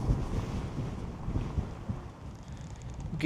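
Strong wind buffets the microphone of a rider on a Begode Falcon electric unicycle, a constant low rumbling roar with gusty swells that fills the whole stretch with no talking.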